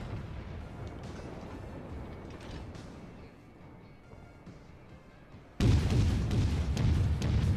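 USS Charleston (C-22) firing armor-piercing rounds in World of Warships: a sudden loud, booming salvo cuts in near the end after a stretch of low mechanical rumble and creaking, then sustains as a heavy roar.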